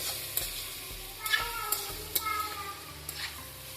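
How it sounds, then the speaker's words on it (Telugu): A tindora and tomato curry with chili powder is stirred in a pan, producing a quiet sizzle broken by irregular spoon clinks and scrapes against the metal. "ఒక స్పూన్ కారం వేసుకుంటున్నాను మళ్ళీ ఒకసారి బాగా కలుపుకుంటా"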